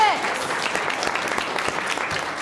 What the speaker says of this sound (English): Let's have a round of applause for the end of round 6